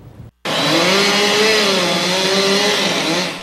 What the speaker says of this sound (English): That's the sound of chainsaws and wood chippers along the train tracks in New Haven